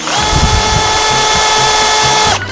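Power tool spinning sandpaper inside a sewer pipe, a loud steady high whine with rattling scraping underneath, cutting off abruptly near the end.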